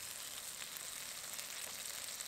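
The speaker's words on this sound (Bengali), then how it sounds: "পেঁয়াজ আদা রসুন বাটা সব একটু ভাজা ভাজা হয়ে এসেছে" Onion, ginger-garlic paste and spice paste frying in hot oil for a snakehead fish curry, a steady close sizzle with soft crackle throughout and no voices.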